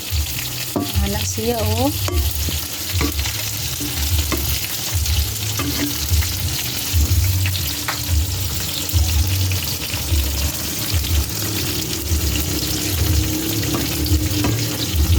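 A spoon stirs ginataang monggo with fresh alugbati in a pot, making steady sizzling and bubbling with scraping stirs close by, and a voice briefly speaks near the start.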